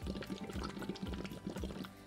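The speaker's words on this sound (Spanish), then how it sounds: "Soplar dentro del tubo, es decir, crear burbujitas dentro del agua." Someone blows through a tube into water during a vocal warm-up, making a steady bubbling gurgle with rhythmic pulses, close and fairly quiet.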